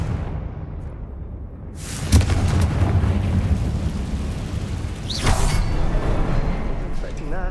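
A Confringo blasting spell in Hogwarts Legacy goes off with a sudden loud explosive crack and a rumbling boom that rolls on, followed by a second whooshing burst, close and heavy.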